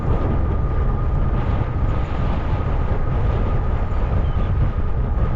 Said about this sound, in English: Wind is up there again